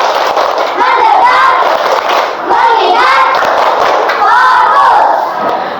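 A group of fourth-grade children in an Indonesian classroom claps and shouts together in loud, rhythmic bursts, chanting a counting clap routine energetically close by.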